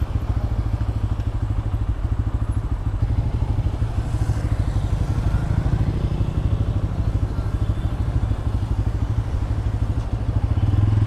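Several Yamaha FZ N160 motorcycles idle together as a group tour sets off in Dhaka. The engines make a loud, steady, close rumble with rapid even pulses that swell slightly near the end.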